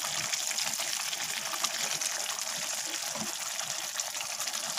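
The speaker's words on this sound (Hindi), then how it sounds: "और इसके अंदर थोड़ा सा पानी डाल देंगे।" A little water poured into a kadai of cooking paneer, capsicum and onion, making a steady, close, hissing gush that carries on for several seconds with no talking.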